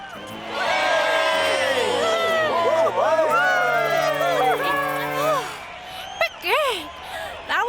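A crowd cheers and whoops loudly after a bike stunt, many overlapping shouts and rising calls over a sustained roar, thinning out toward the end as a few voices call out.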